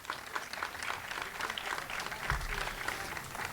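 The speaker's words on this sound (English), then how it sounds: "So let's give our staff a great round of applause." Crowd applause for staff at the Tournament of Roses community open house, fairly faint, diffuse clapping that carries on steadily, with a brief low thump partway through.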